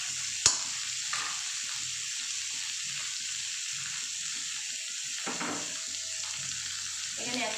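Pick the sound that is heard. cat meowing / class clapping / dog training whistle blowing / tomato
tomato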